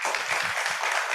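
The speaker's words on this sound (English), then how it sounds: "let's give a round of applause." A conference audience claps in a brief, dense burst of applause, steady and fairly loud throughout.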